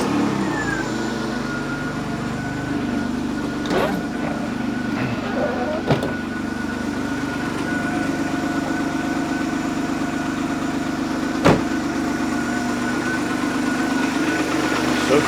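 A Citroën XM with Hydroactive suspension settles into a steady mid-pitched idle after starting, with a few sharp clicks and knocks over the constant engine hum.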